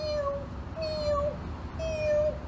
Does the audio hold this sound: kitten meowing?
yes